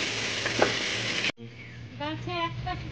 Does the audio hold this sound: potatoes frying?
yes